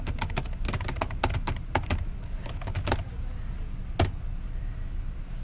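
Fingers type on a computer keyboard, tapping out words in quick uneven clusters of crisp, close keystrokes, with a few isolated taps and a single harder stroke near the end over a low steady background hum.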